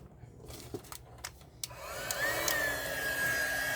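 A hair dryer starts up after a few scattered knocks and blows steadily, a loud close whir with a rising whine, drying a freshly demolded polyurethane resin piece for Easter decor.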